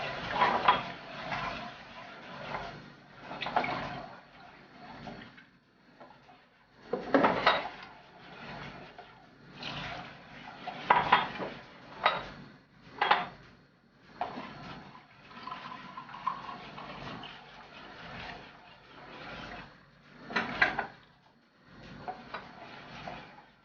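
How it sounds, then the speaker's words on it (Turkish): Milk being stirred quickly into a béchamel sauce in a pan, the spoon scraping and clattering against the pan in uneven bursts, with liquid sloshing throughout. "Çok az kavurduktan sonra sütümüzü ilave edip hızlıca karıştırıyoruz"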